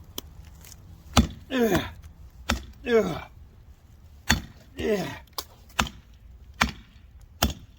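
A big fat knife chops into a solid frozen tree: about eight hard, sharp thwacks land close up at an uneven pace, with splintering bursts after some strikes. A single short word is spoken.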